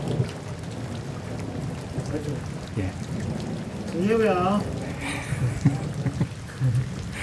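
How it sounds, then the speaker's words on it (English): Steady rain with low rumbling thunder outdoors in remote Namibian countryside, while someone talks briefly over the storm. "Sitting out a thunderstorm once again."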